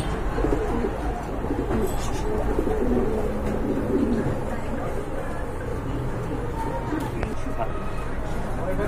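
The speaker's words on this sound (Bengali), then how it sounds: "আরেক জোড়া কবুতর দেখতে পাচ্ছেন মাশাআল্লাহ" Pakistani high flyer pigeons coo in soft, low, repeated calls, close by and fairly steady, half buried under constant chatter and background voices.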